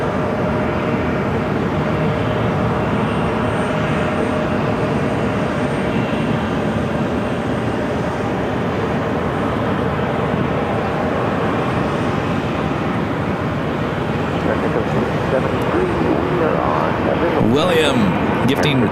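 A British Airways jet taxis at Phoenix airport toward a far east side gate, its engines a steady continuous rumble at moderate distance, with a brief higher whine near the end.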